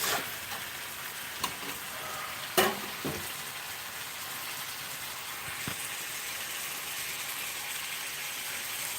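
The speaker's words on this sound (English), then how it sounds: "the meat is almost ready, as it is getting cooked" Italian-seasoned meat fries in a pan with a steady, moderate sizzle, broken by a few sharp clinks and scrapes of a utensil, close and without talk.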